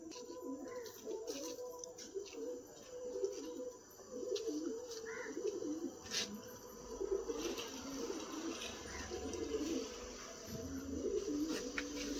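Pigeons coo softly and repeatedly in the background during night training flights, a low murmuring chorus with occasional faint chirps.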